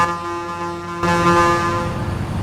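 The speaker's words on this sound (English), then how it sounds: "I'm gonna honk at him." A car horn honks in the Watch Dogs 2 video game, a sustained steady tone lasting over two seconds, growing louder partway through, with engine and traffic noise underneath.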